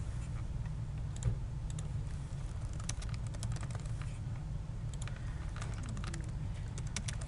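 Typing an email on a computer keyboard: a steady patter of light key clicks, some in quick runs and some spaced apart, faint over a low constant hum.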